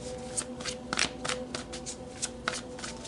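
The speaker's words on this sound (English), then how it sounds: "Let's pull more cards, Cancer." Tarot cards being shuffled by hand, a quick run of crisp riffling flicks and soft slaps, close and fairly quiet with no talk.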